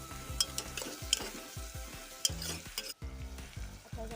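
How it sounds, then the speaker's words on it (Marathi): Finely chopped onion sautéing in oil for a traditional wedding-style brinjal and potato curry, a steady close sizzle broken by repeated scraping stirs of a spoon against the pan, with no voices. "बारीक केलेला कांदा, जरा तेलामध्ये परतून घ्यायचं थोडंसं."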